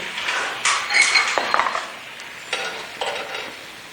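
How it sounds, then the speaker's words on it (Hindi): Garlic sauce with vinegar cooking in a pan, with sizzling and a spoon stirring and scraping in short bursts, close and fairly loud, no voices. "सारी चीज़ें शामिल करके ना हमने इसको पकाना है अच्छी तरह, जब तक ये सॉस गाढ़ी ना हो जाए।"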